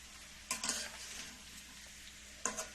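Bitter gourd and potato with small shrimp and green chillies stir-frying in a pan, a steady soft sizzle broken by two short scrapes of a spatula stirring, close and fairly quiet.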